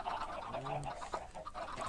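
A chicken clucks faintly in a Minecraft egg farm, a short warbling call partway through while a voice talks over it.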